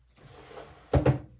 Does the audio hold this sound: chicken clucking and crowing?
no